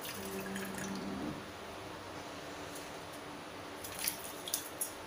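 Water swishes steadily as finger millet (ragi) is swirled and rinsed in a bowl, a continuous wet sloshing that ends in a few small drips and splashes, heard alone.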